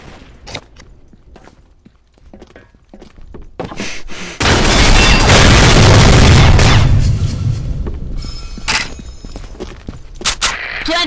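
Grenade blasts in the Combat Arms shooter: scattered footsteps and shots, then a loud, close explosion that roars and rumbles for several seconds before fading into more gunfire clicks and thuds.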